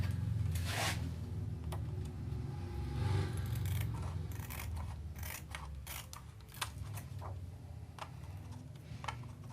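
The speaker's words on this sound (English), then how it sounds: "Same thing, cut the edge." Scissors snipping the edge of a film photography print mask, a series of quiet clicking cuts and paper rustles close by over a steady low background hum.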